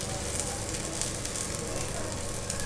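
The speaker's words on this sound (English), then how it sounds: "the ingredients just like cream and onion will be fried properly" Paratha topped with cream and onion fries in ghee on a pan over a low flame, giving a steady, close, crackling sizzle with small pops throughout.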